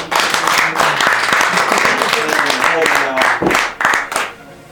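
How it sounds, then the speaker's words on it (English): An audience claps and cheers in sustained applause close by, mixed with voices talking over it. "Round of applause, y'all."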